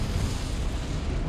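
A Confringo blasting spell goes off in Hogwarts Legacy, a loud, dense explosive boom with rumbling low end that fills the whole short moment, no voices over it.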